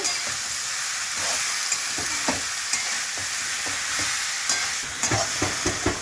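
Red amaranth leaves with salt being stirred in a hot pan, a steady sizzle punctuated by repeated clicks and scrapes of a spatula at an uneven rhythm, close and continuous.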